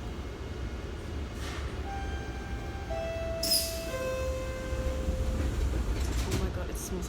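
Riding inside a train on rails gives a steady low rumble and rattle throughout, with thin high-pitched squeals from the wheels or brakes drifting in and out.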